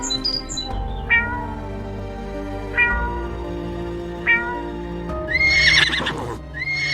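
A cat meows three times at even intervals, clear and close, followed by a horse's loud whinny near the end.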